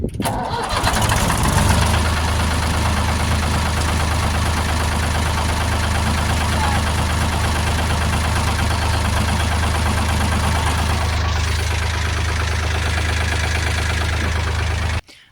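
A tractor engine on an Irish farm starts, then settles into a loud, steady diesel idle with a constant low rumble close by, cutting off abruptly at the end.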